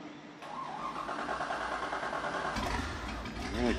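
A hurricane-damaged boat's starboard engine cranks and catches, then settles into a rough mid-pitched idle, with a deeper surge of engine noise near the end.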